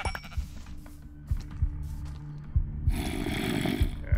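Sheep bleat in the video game Minecraft, several short nasal calls over a few seconds beneath game sound effects and footsteps.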